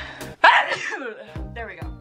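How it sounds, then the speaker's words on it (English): A single sharp sneeze bursts out close to the mic during a thrift clothing haul, followed by a brief breathy sound and a few quiet vocal noises. "I have to sneeze."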